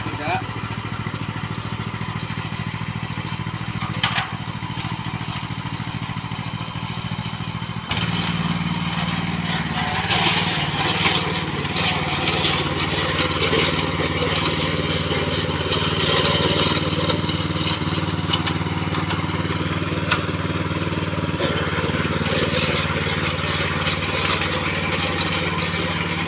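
A mini cultivator plow engine runs steadily in a paddy field, a continuous close mechanical drone with rattling that holds for the whole stretch, while people talk over it.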